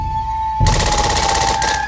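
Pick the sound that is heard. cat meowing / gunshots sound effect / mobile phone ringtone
gunshots sound effect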